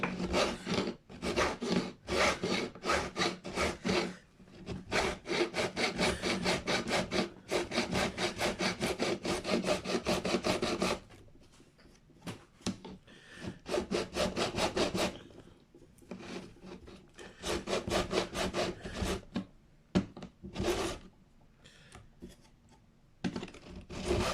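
On a Squier Deryck Whibley Telecaster neck after a partial refret, a file bevels the fret edges in long, rhythmic rasping strokes. The strokes are close and steady, with brief pauses between runs.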